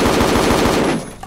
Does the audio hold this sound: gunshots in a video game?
yes